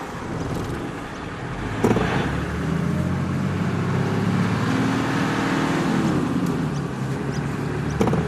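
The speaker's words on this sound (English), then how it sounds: "We have to wait for cars to go through here." Cars passing through the town centre of Alice Springs, a steady broadband traffic rumble with engines swelling and fading as vehicles go by, fairly close, with no talk.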